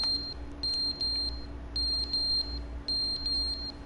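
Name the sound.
carbon monoxide detector beeping in The Stanley Parable video game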